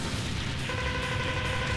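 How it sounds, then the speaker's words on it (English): Dense, continuous rumbling blasts from the Mega Man X4 video game fill the whole stretch at steady loudness, a wash of booming explosion noise with no pauses and no talking. "the explosions aren't gonna harm you."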